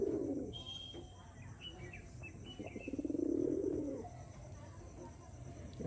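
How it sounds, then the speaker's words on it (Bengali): Giribaz pigeons cooing inside a pigeon loft, low throaty coos rising into a louder burst midway, with faint chirps and occasional wing flutter around them. "হ্যাঁ, দেখুন পায়রাগুলো কেমন হয়।"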